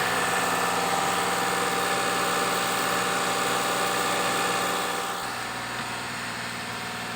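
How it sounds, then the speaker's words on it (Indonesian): Daihatsu Xenia 1.0 engine held at a steady 2000 RPM during an intake carbon-cleaning tune-up, a loud continuous drone nearby that drops to a lower, softer idle near the end. "RPM ditahan di 2000 agar terjadi daya hisap."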